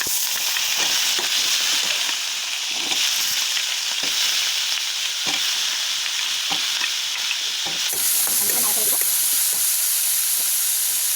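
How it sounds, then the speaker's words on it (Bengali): Onions fry in hot oil in a pan with a loud, continuous sizzle and hiss. The steady scrape and clatter of stirring runs throughout, and the sizzling surges near the end as potatoes go in. "পেঁয়াজটা ভাজা হয়ে গেলে এখন দিয়ে দিব আলু"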